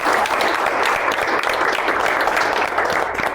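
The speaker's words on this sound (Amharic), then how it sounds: "አጨብጭቡላት ለረዴት።" A game-show audience gives steady, dense applause for a contestant named Redet, continuous clapping filling the whole stretch without talk.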